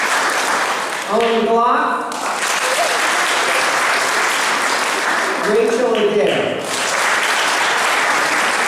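An audience at a fourth grade school awards ceremony keeps up a continuous round of applause while an announcer reads names over it twice.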